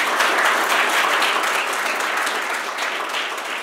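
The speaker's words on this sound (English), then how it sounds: "Give him a warm applause." An audience applauds after a CodamX tech talk presentation, a sustained, even patter of many hands clapping that fills the room and fades slightly toward the end.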